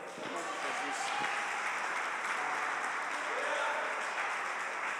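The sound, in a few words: applause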